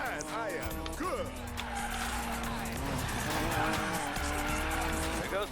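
In the racing game Need for Speed Payback, a car drifts with squealing tires over a revving engine. The squeal rises and falls in bursts across the whole stretch, with a voice faintly underneath.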